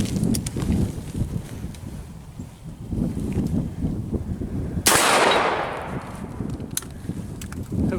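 A Rossi Tuffy .410 single-shot shotgun fires one round of Winchester 2.5-inch triple-aught buckshot at an outdoor range: a single loud, sharp blast with a long windy decay, set against gusty wind noise.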